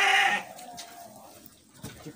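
Garut sheep in a pen: one loud, near bleat at the start, followed by quieter scattered pen noises and faint shuffling.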